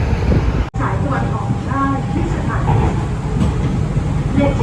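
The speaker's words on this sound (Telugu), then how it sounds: "మెట్రోని ఇక్కడ స్కై ట్రైన్ అంటారంట. సో చూద్దాం ఇక్కడ స్కై ట్రైన్ ఎలా ఉంటుందో." A Bangkok Skytrain metro train running, with a steady loud rumble and hum of the carriage in motion and faint voices mixed into the continuous noise.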